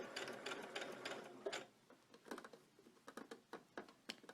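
A sewing machine runs a very narrow stitch near the seam on a summer dress, quiet and close, in short bursts of fast ticking separated by brief pauses.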